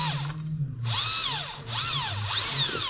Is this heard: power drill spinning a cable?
yes